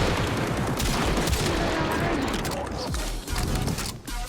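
Rubico Prime sniper rifle shots in Warframe ring out as repeated loud gunfire booms, with dense game combat noise and effects filling the mix throughout.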